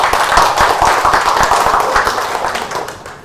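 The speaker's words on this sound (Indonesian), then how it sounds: "Tepuk tangannya dulu Ibu untuk Pak Haji" An audience at a Semua Bisa Kaya community gathering claps for Pak Haji, a close, loud crowd of hand claps with sharp individual strikes that thin out slightly toward the end.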